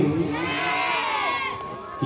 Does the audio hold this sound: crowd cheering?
yes